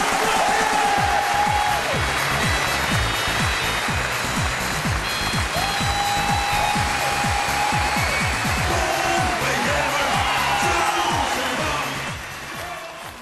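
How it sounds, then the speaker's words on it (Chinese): A studio audience on a Chinese dating game show gives sustained applause, a dense loud clapping that fills the room for over ten seconds and fades at the end, with brief musical tones sounding over it. "来，掌声有请。"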